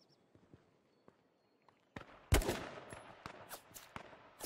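An AK rifle fires in H1Z1 Crash Car Derby, a loud close burst of shots followed by scattered quicker cracks after a quiet stretch with faint footsteps.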